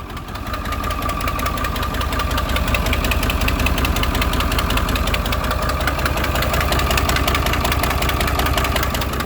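A leaking engine idles steadily, loud and close, with an even mechanical knock and rattle running unbroken throughout.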